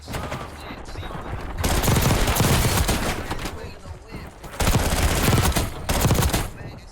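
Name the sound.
PPSh SMG gunfire in the video game Call of Duty Warzone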